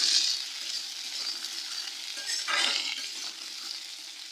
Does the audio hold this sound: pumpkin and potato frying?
yes